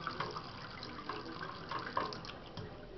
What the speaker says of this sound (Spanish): Abro la caliente, sale agua.